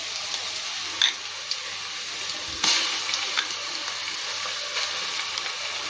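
Ginger garlic paste sizzles steadily in hot oil while frying for chicken biryani, a close, continuous hiss broken by a few soft clanks and stirring scrapes.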